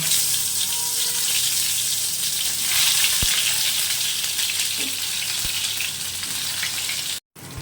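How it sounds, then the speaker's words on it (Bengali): Steady, loud sizzling of karkol frying in mustard oil in a frying pan, continuous crackle throughout with a brief silent gap near the end. "ফ্রাই প্যানে সর্ষের তেল দিয়েছি কারকলগুলো হালকা করে ফ্রাই করে নেব"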